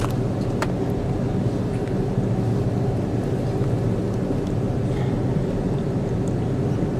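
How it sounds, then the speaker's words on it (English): An Etihad Airways plane taxis onto the runway at Abu Dhabi International Airport, heard from inside the quiet cabin as a steady low engine rumble and hum without a break. "We're just taxiing onto the runway."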